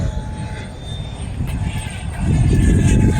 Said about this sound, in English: There's airplanes everywhere.